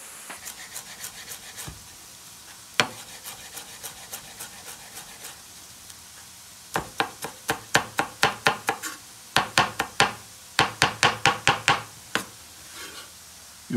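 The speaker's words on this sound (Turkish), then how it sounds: "Şimdi hemen dereotlarımızı küçük küçük doğruyoruz." A knife chops fresh dill finely on a board, sparse cuts at first, then quick bursts of sharp, evenly spaced knocks, close and clear.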